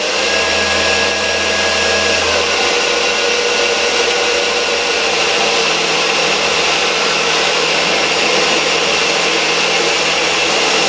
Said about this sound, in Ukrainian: Запускаємо станок.